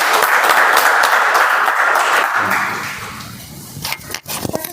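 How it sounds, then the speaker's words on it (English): Applause from a Toastmasters meeting audience, loud sustained clapping that gradually fades over a few seconds, with a few sharp knocks and scrapes near the end. "Let's have a round of applause to Toastmasters."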